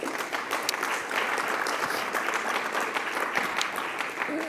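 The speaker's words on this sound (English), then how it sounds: "Please also a round of applause." An award-ceremony audience applauds steadily, a dense, even wash of clapping that fills the room for several seconds at moderate-to-loud level.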